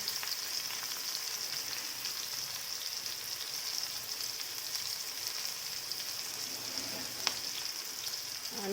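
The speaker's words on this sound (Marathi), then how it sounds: "त्याच्यातच मी जिरे आणि लसूण बारीक करून घेतलेला तो टाकायचा" Crushed cumin and garlic fry in oil, making a steady, fairly quiet hiss and fine crackle that runs evenly throughout, with one brief sharp tick near the end.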